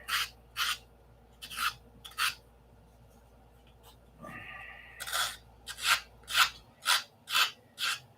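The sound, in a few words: sanding a scale model with sandpaper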